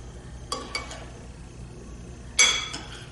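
A spoon clinks and scrapes against a bowl while salsa with seeded, chopped fresh jalapeños and chopped ripe olives is stirred, giving a few short, close strokes over a quiet background.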